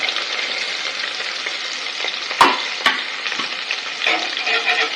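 Onions and tomatoes sauté in a pan with a loud, close frying sizzle, broken by two sharp spoon knocks and ongoing stirring scrapes, and nobody speaks.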